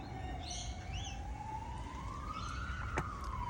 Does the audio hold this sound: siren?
yes